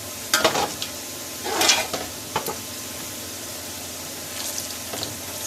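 Cumin seeds frying in a pan for chana pulao, stirred in a few distinct scraping bursts over a soft background sizzle, with quieter gaps between strokes.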